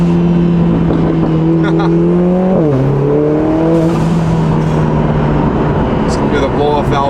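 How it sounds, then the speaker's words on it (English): A Lotus Emira four-cylinder with a Valvetronic Designs exhaust revs up and settles with a smooth, rising and falling tone and a few sharp crackles, heard close over background talk. "Besides the pops and cracks and all the other drama and excitement, it really gives a nice smooth tone to this 4-cylinder."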